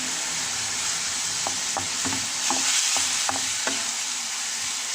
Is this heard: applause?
no